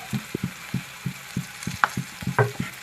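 Fried rice with capsicum frying in a pan as pepper powder goes in, heard as a soft sizzle under a regular series of dull stirring knocks, close and moderately loud.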